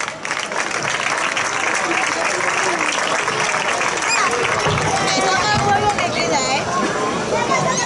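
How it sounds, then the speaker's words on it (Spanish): Audience applause for the town mayor at the opening of a village fiesta, loud, dense and continuous, with crowd murmur blended into the clapping. "Fuerte aplauso para él."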